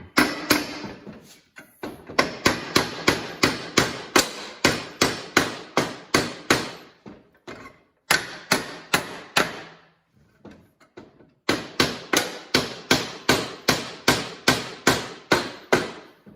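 Metal hammer blows ring out on a 1970s Black and Decker corded push mower that sat unused for over 20 years. Loud, close and rhythmic, the strikes come in steady runs, pause for a couple of seconds, then resume.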